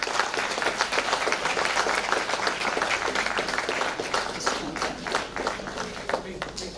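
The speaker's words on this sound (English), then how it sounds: "big round of applause" An audience at a felicitation ceremony breaks into steady, dense applause that fills the hall, sustained clapping from many hands continuing throughout at an even level.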